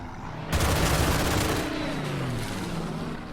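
A fighter plane strafes in the Order of Battle strategy game, a sudden loud burst of rapid gunfire that swells into a dense roaring barrage with a falling engine tone, steady for several seconds and heard alone.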